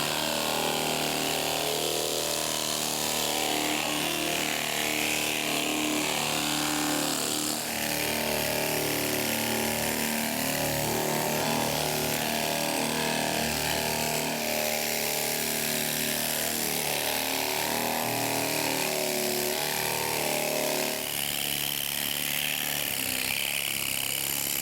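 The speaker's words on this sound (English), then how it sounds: "So I'm going to mask up, and we'll get this stuff sanded down." Power sander working plastic body filler on car bodywork, a steady loud whine running continuously throughout with slight shifts in pitch as the tool presses and moves across the surface.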